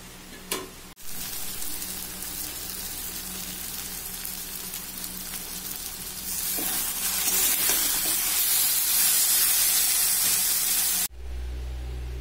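Kochur loti (taro stolon) curry with dried shutki fish sizzles steadily in oil in a pan, growing louder partway through before cutting off abruptly, leaving a low hum.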